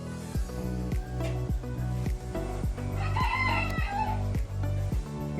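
A rooster crows loudly and close by among chickens settling into a newly built coop, with steady clucking and a rhythmic knocking pulse running underneath.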